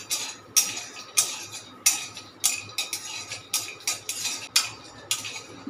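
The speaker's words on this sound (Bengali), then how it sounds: "এবারে বাদামগুলো আমি একটু এর মধ্যে নাড়াচাড়া করে নিচ্ছি, একটু নাড়াচাড়া করে নেব।" A spoon stirs nuts around a pan while making pineapple ice cream, producing close, regular metallic scrapes and clinks at an even rhythm of about one and a half strokes per second.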